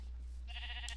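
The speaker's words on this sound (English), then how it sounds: "Dye one of the sheep blue." A single short sheep bleat from a survival video game, faint and thin over a steady low hum, with no talking.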